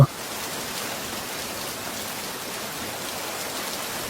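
Steady rain falls in an even, continuous hiss that holds at the same level throughout, with no other sounds standing out.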